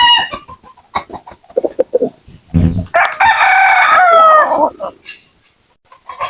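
Native chickens cluck and a rooster crows loudly at close range at feeding time, with scattered clucks and calls around one long crow.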